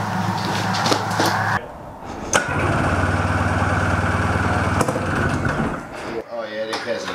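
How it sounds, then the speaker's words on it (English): A 100-horsepower go-kart engine runs with a loud, raw exhaust note, a steady droning roar with harmonic bands that holds for several seconds, briefly cut and revving, while voices talk over it. "Oh yeah, it has an exhaust like crazy. I hear that already."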